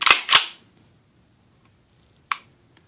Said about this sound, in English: The pistol is resetting. It resets now. You can hear that reset.